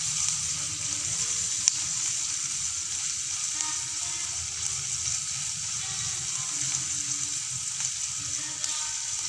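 Semolina (rava) sautéing in a pan for upma gives a steady, close hiss and sizzle throughout, with faint stirring scrapes and no voices.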